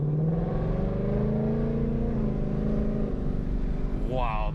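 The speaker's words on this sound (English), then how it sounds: "Wow, that trans shifts fast." A 2019 Ford Mustang GT accelerating on the road from inside the cabin, a steady droning engine note climbing and dropping as the transmission shifts quickly, with a rising rev near the end and a voice speaking over it.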